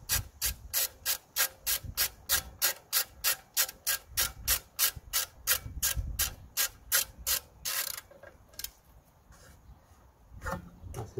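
Screws being tightened on the rear brake disc of a Honda Jazz, a rapid regular series of ratcheting clicks from a hand tool, close and loud, slowing to a few scattered clicks toward the end.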